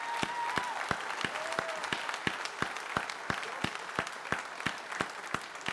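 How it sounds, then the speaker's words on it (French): Crowd applause at the official presentation of Golden Globe Race skippers: steady, moderately distant clapping with a few distinct sharp individual claps standing out in an even rhythm, no talking over it. "Applaudissements pour les mots en français"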